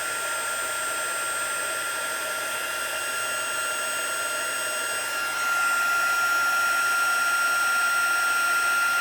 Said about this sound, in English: Bring in the heat tool again, let it warm up, and melt.